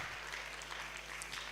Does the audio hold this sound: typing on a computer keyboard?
no